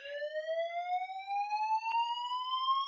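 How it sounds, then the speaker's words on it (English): A household fire alarm sounds steadily in a home, one continuous shrill electronic tone gliding slowly upward, loud and unbroken with no voices over it. "My alarm is going off."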